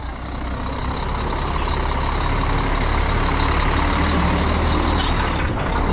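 Heavy grain truck rolling up to be loaded at a soybean harvest, a steady loud rumble of engine and road noise with a faint high whine, constant and close throughout.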